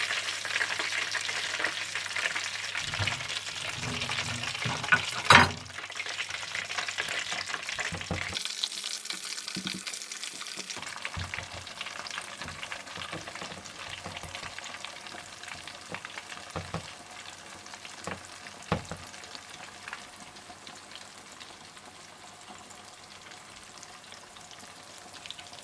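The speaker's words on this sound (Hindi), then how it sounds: "बाकी सारे विंग्स भी इसी तरह से फ्राई कर लीजिए" Chicken wings frying in oil over medium heat, a steady close sizzle that runs throughout, with a few brief clatters and scrapes of utensils partway through.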